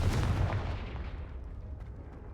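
A Confringo spell blast in the Hogwarts Legacy video game lands as a single muffled boom with a rumbling tail that slowly fades, fairly quiet and heard alone.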